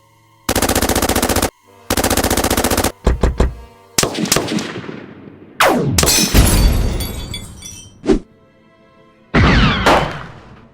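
Loud bursts of toy-movie gunfire, sustained automatic rattles followed by scattered single shots, sweeping whooshes and shattering crashes, close and dense with brief gaps between volleys.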